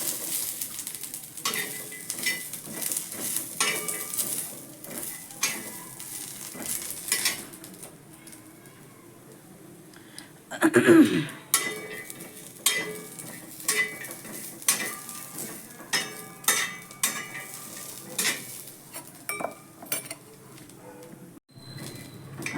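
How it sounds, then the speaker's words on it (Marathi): Coconut pieces roast in a pan for a vegetable curry masala, giving soft sizzling with repeated scraping and stirring clatter from a spoon against the pan, close up, with one louder metallic knock midway. "त्यासाठी आपण हे तुकडे भाजून घेऊयात"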